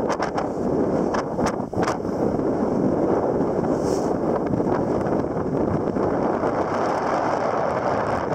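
Strong wind roars across the microphone outdoors on the Isle of Iona, a loud, continuous low rumble with gusty surges and a few sharp buffeting thumps early on.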